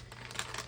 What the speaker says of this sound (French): Donc, un papier plastique.